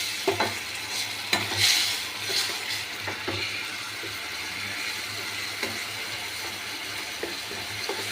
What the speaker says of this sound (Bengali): বেশ বড় মাছেই কষাচ্ছি এটা